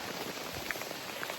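Rain falls during a backpacking trip on Isle Royale, heard as a soft, steady patter with a few brighter drop hits close by, brief and with no talk.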